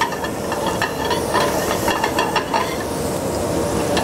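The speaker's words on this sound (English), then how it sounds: "We're going to just add our whole butter here. Let this melt down." Whole butter melting and sizzling in a saucepan over a lit flame gives a steady, close, crackling hiss that runs unbroken throughout, with no voices.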